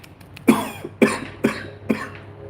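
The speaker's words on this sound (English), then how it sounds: "Excuse me, as I cough." A single person coughs four times in quick succession, close to the microphone, each burst sharp and husky, with brief pauses between them.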